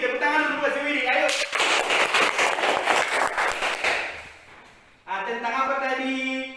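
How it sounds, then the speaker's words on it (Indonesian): A classroom claps for a student, a short burst of many hands clapping in the middle that fades out, between stretches of an adult voice talking. "tepuk tangan dulu buat si Widi"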